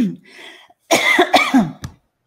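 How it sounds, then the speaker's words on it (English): A faint throaty sound, then a pause, followed by a burst of several harsh, close coughs in quick succession. "why am I coughing?"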